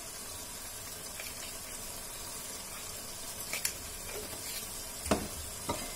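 Mutton pulao masala sizzles and fries in a pan, with a spoon scraping and stirring through it in a few soft, close strokes over steady low frying noise.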